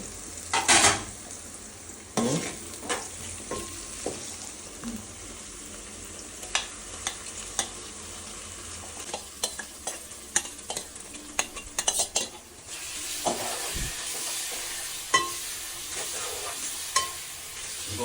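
Mutton pieces fry with softened onions in a pot, a continuous close sizzle with repeated spoon scrapes and clinks as the mixture is stirred, steady and without talking.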